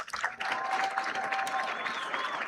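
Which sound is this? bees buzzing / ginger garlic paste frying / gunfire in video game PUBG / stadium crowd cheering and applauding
stadium crowd cheering and applauding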